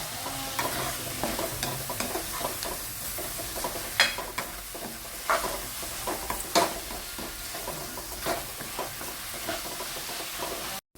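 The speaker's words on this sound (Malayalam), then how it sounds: "ഇതെല്ലാം കൂടെ നല്ലതുപോലെ അങ്ങോട്ട് വഴറ്റ" Onion, ginger and garlic sautéing in a pan for a beef bone curry, a continuous close sizzle broken by the clatter and scrape of a spoon stirring, with no talking.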